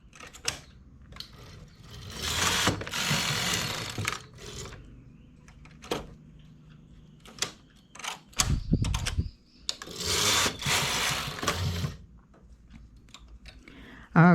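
A knitting machine works lace stitches, its carriage sweeping across the needle bed in loud rushing passes, separated by quieter clicks and clacks as needles and stitches are moved by hand.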